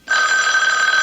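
A telephone bell rings in a radio drama, one continuous loud, bright electric ring starting abruptly and sounding alone.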